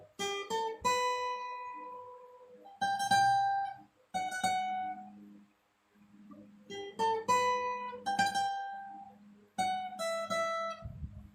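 A clean guitar plays a short plucked phrase, quick picked notes in bursts separated by brief pauses, then the phrase repeats.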